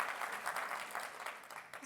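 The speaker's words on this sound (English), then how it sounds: "Are we clapping for Marco?" An audience claps for Marco at a conference session, a brief burst of steady, fairly close applause with no voices over it.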